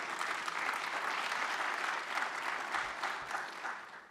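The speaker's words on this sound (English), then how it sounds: "LSIC community, give yourselves a round of applause" Audience applause at the LSIC Spring Meeting, a large conference crowd clapping steadily and evenly, heard somewhat distant and soft, fading near the end.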